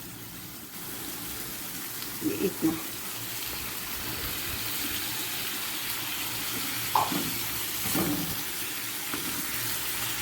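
Water poured from a faucet or vessel into a pan of cooking keema, a steady faint rushing gush with a few soft clinks, and someone speaking briefly in Hindi over it.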